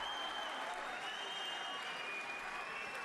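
A boxing arena crowd claps and cheers steadily after a world heavyweight championship bout, a dense wash of applause holding at a constant level throughout.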